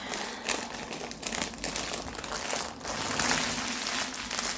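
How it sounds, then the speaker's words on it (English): Crinkly plastic packaging from a Diamond Art Club diamond painting kit rustles and crackles continuously at close range, with bursts of sharper crunching throughout. "So I apologise for the crinkling."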